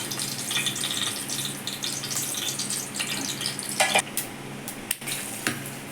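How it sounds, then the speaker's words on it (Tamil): Steady crackling sizzle of whole spices (cinnamon, cloves, cardamom) frying in hot oil, with occasional clinks and stirring sounds over a continuous hiss. "எண்ணெய் ஊற்றி பட்டை கிராம ஏலக்காயெல்லாம் போட்டு தாளிச்சிடலாம்"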